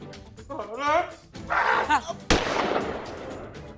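A single gunshot cracks sharply and loudly after two short spoken phrases, its report ringing out and decaying over the following second.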